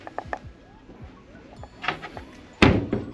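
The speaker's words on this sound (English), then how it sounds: "You have closets here. Yep, it opens this way." A closet door in a cruise ship cabin on the MSC Divina opens with small clicks and knocks, then shuts with one loud, close thump near the end.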